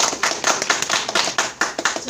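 A small group claps at a press conference, a few seconds of uneven, brisk hand claps with no talking over them.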